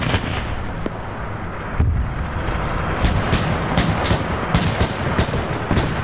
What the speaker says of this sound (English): there's a flat gun right here shooting down the aircraft